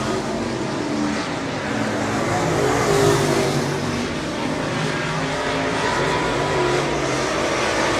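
Late model race cars roar around Cotton Bowl Speedway during a heat race, a steady engine drone that swells and fades as cars pass at a distance, under crowd and track ambience.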